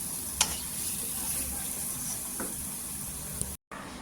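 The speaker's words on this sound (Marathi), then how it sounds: "बटाटे टाकल्यावर आहे ना छान असं इथे परतून घ्यायचं, तेलामध्ये छान असं मिक्स करायचं।" Potatoes stirred and sautéed in hot oil for Mumbai-style vada pav filling give a soft, steady sizzle with a few faint scraping clicks, quiet and close.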